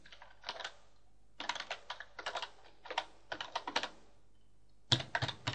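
Computer keyboard keys tapped in quick bursts while a login email address is entered, clusters of close, crisp clicks separated by short pauses, with no speech.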